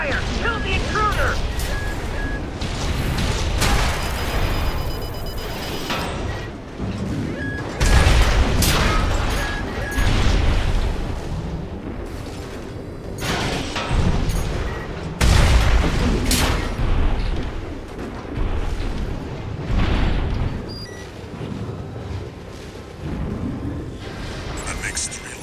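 Gunfire and explosions rumble through a mech battle in Armored Core 6, with repeated deep booms and bursts of shots over a dense, continuous mechanical din; voices speak intermittently within the barrage.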